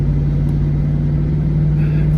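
A pickup truck engine idles during a snowy plowing run, a steady low rumble heard close and alone, with no talk.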